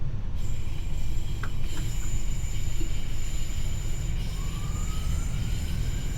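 A TfW Class 153/9 diesel train running on the Cardiff City Network in Train Sim World, a steady loud rumble of wheels and engine with a faint rising squeal of wheels on rail.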